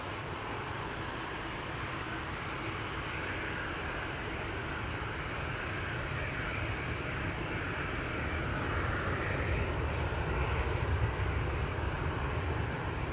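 A Transavia Boeing 737 departs Amsterdam Schiphol Airport, its jet engines a broad, continuous roar at a moderate distance, swelling slightly louder toward the end.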